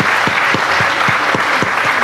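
Steady, dense applause from the audience at a book dedication ceremony for a novel, continuous clapping with soft, regular low thumps underneath and no talking.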